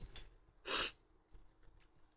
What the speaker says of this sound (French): J'ai envie d'éternuer, c'est horrible.